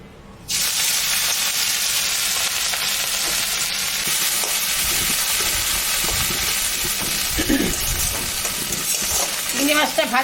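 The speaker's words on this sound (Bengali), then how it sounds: "চিংড়ি মাছটা ভাজা হয়ে গেছে" Prawns coated with salt and turmeric fry in hot mustard oil in a wok, producing a loud, dense, continuous sizzle with occasional stirring knocks throughout.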